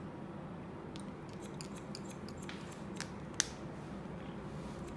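Scissors snip through hair in a quick series of soft, close metallic cuts over quiet room tone during a haircut, with no talking.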